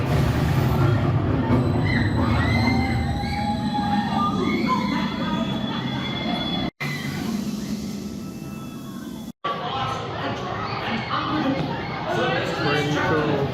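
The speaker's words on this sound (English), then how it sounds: "Look at these trains." Theme park trains rolling past with rumbling wheels and faint squeals, with a crowd murmuring around them. People talk over the noise, which cuts out briefly twice.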